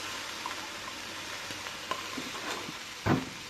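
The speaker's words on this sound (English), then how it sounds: "I've got my wok heating over medium heat here, and I'm gonna add some of the red chili paste" Red chili paste sizzling in a wok heated over medium heat, a steady hiss of frying with a few light scrapes and a louder clatter near the end.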